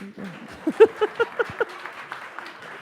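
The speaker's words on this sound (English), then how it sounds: "you can clap" A handful of people at a community forum in Minneapolis give a few scattered claps, about six distinct, fairly close slaps spaced unevenly, after which the clapping fades into quiet room murmur.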